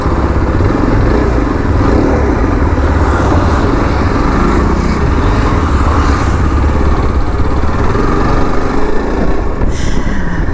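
2025 Yezdi Adventure motorcycle engine running steadily, a loud, close, continuous mid-pitched rumble and throb that holds for the whole stretch, with no talk over it.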